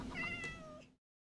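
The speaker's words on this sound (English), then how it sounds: "I'm gonna try and creep up on this cat." A single short Minecraft cat meow, clear and close, rising then fading over about a second before cutting to silence.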